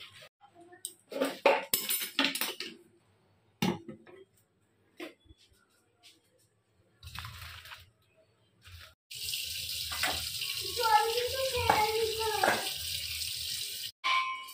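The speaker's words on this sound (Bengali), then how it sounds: "এবার এটাকে ছেঁকে নিতে হবে। তো আমি ছেঁকে দিই, জলটা বাদ দিয়ে দিতে হবে।" Boiled noodles for Korean-style Maggi being drained, with water splashing and pouring into a sink for several seconds after some clinks and handling noises, while a person talks early in the clip.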